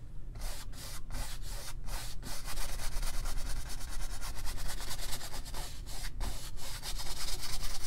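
A paintbrush scrubs paint onto canvas for a covered-bridge landscape with pine trees, making a steady, close, dry rubbing hiss in quick repeated strokes that runs throughout without speech.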